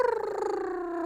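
A man imitates a cat's loud purr with his voice, a steady droning rumble held for about a second, close and fairly loud.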